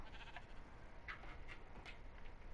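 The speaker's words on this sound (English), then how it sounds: "Stay still, you fat sheep." A sheep in the video game Minecraft bleats in short repeated calls over a continuous, fairly loud game background, each bleat clear and close.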